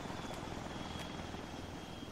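A military helicopter in ArmA 3 drones close by, a faint but continuous rotor and engine wash with no pauses.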